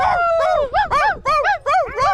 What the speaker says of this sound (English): Hundreds of huskies over here,